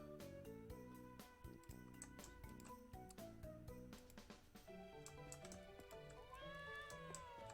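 A cat meows in the Trials of Mana remake, heard as a few short game meows over busy background music and some keyboard clicks.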